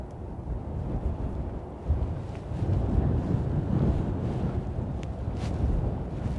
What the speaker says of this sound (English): Wind is absolutely mental Wind here.